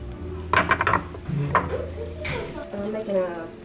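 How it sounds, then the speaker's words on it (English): Batter poured over melted butter in a hot skillet, a soft sizzle under clinks of a utensil against the pan, with people talking over it. "We'll get the skillet out and pour this right over the top of the melted butter."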